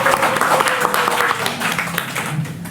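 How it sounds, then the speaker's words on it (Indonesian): Applause rises loud and close during a podcast recording, with a crowd clapping over a sustained tonal background that fades slightly toward the end. "Tepuk tangan. Tepuk tangan."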